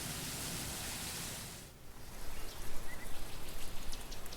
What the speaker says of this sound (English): a day beginning with a cloudburst like this, locals usually take it as an immediate sign